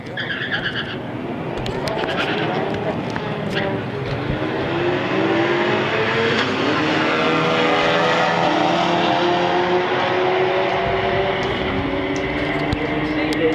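A 1993 Mustang Cobra and a silver Honda drag race down the strip, engines roaring and building steadily in pitch as they accelerate away together, loud and sustained with no talk.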